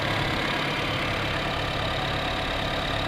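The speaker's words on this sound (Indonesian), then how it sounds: "Nah, ini udah nyala. Ini kondisi mesinnya normal, tidak ada bunyi aneh-aneh." A 2017 Honda BR-V engine idling in normal condition, a steady even hum with no knocks or odd noises, continuous and close throughout.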